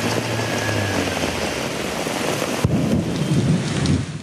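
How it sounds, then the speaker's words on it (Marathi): Heavy downpour during a sudden afternoon storm in Pune, a steady dense roar of rain hitting surfaces throughout, with a sharp thunder crack near the middle followed by rolling rumbles; no voices. "दुपारच्या वेळी अचानक दाटून आलेला अंधार आणि मुसळधार पाऊस."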